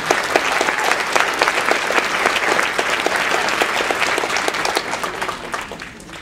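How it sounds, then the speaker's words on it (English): Seminar attendees clap for a guest, a moderately sized crowd producing distinct, uneven hand claps at medium distance, steady for several seconds before thinning out. "if you would put your hands together and give him a round of applause"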